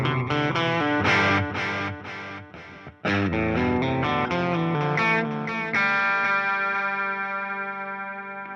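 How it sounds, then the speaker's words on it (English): A guitar runs through the studio delay on a Fender Tone Master Pro, with a quick run of picked notes and then sustained tones whose repeats ring on and fade gradually at the end. "And the last one is the studio delay"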